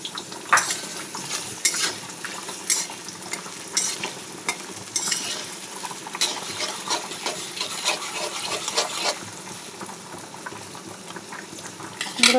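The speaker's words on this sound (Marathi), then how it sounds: "तेल गरम झाले तर कांदा टाकले मिरची टाकली आहे" Onion and green chili fry in hot oil with a steady sizzle, punctuated by frequent clinks and scrapes of a spatula against the pan, close and moderately loud.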